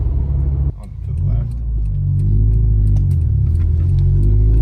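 A Subaru Impreza with a Pedal Commander and a manual gearbox accelerates from low speed, its engine a loud, close, rising rumble.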